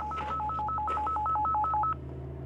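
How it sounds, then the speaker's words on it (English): A GMRS handheld radio plays a call ringtone of rapid alternating two-pitch beeps for about two seconds, heard clearly from a short distance before cutting off. "And now you can hear the other radio"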